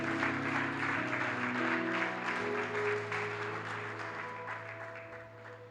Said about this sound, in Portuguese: Você pode aplaudir o Senhor por essa palavra?